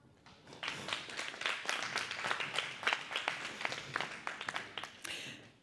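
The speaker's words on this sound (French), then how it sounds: "je vous demande de bien vouloir applaudir pour leur baptême du feu, mesdemoiselles Flavie et Sarah" An audience at a Women's Day event applauds two young women, a close burst of dense clapping that rises quickly, stays full for several seconds and then tapers off.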